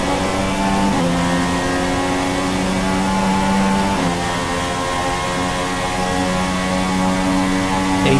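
A Formula 1 car's engine in the racing game F1 2016 at the Shanghai Grand Prix on a wet track screams up through the revs, with quick gear-change dips before climbing again in a loud, close, steady whine.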